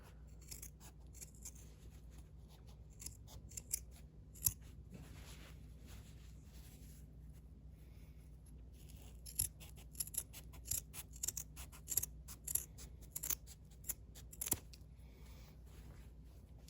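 Scissors trim the seam allowance on a quilted coat, giving sparse, quiet snips in small irregular clusters over a faint, quiet room background.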